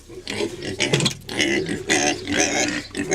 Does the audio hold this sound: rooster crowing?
no